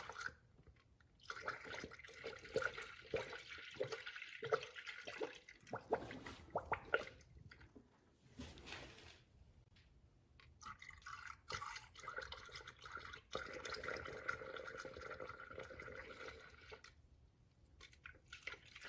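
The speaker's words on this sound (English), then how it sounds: "keep filling the system with coolant slowly" Engine coolant trickles and gurgles steadily into a funnel on a 2010-2015 Lexus RX350/RX450h, with splashy pouring sounds rising and falling, close up and fairly quiet.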